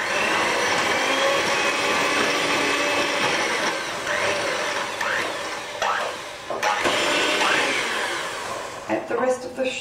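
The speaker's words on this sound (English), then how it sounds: "Just use an electric mixer." An electric mixer whirs through banana bread batter with sugar, a steady mid-level motorized drone with small shifts in pitch as the beaters move, ending with a few uneven bursts.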